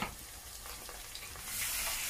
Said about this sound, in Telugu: ఇప్పుడు ఆయిల్ వేడయ్యి అవి వేగిన తర్వాత దాల్చిన చెక్క, అవి ఉల్లిపాయ పచ్చిమిరపకాయ వేసేసుకుందాము